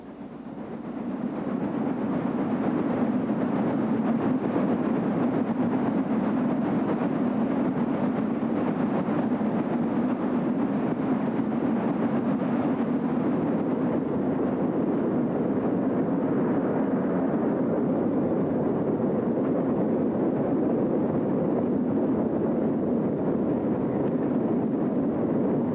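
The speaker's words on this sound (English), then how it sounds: "Eastbound at Fulton on March 19, 1950, number 1212 on another coal train." Chesapeake and Ohio steam locomotive number 1212 hauling an eastbound coal train at Fulton, a steady heavy rumble with continuous chuffing and rolling wagons, loud and close throughout with no voices.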